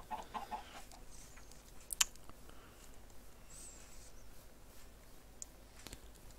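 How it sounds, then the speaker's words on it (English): Chickens in the Minecraft video game give a few soft clucks near the start, with a brief sharper game sound midway, all faint over quiet background ambience. "Oh, look, chickens."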